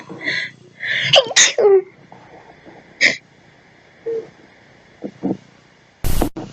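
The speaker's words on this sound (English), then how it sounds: "I don't want to sneeze on camera." A person sneezes several times in a row, sharp close bursts with short breathy build-ups, separated by pauses and ending in one loud explosive sneeze.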